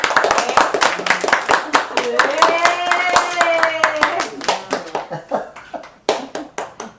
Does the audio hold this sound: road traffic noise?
no